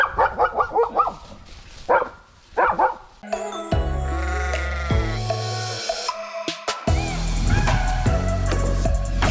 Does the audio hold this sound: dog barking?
yes